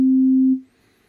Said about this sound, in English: This should be just a simple sine wave oscillator.